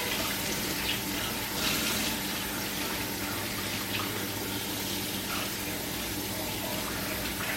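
Steady stream of tap water running into a kitchen sink while a knife is rinsed during stew preparation, a continuous even splashing rush with faint clinks, close and unbroken.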